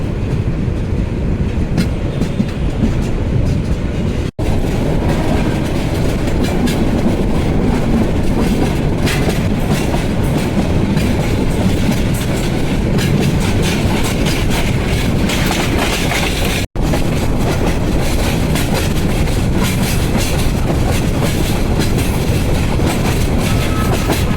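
The Parabat Express intercity train runs on its rails around a long curve, a loud, steady rumble with wheels clattering over the track throughout, heard from on board.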